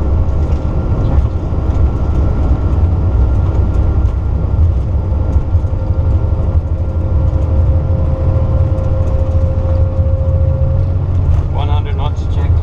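An Airbus A330's engines at takeoff thrust during the roll at Newark: a steady, loud, wide roar with a faint sustained tone, heard from inside the aircraft, with cockpit voices speaking over it.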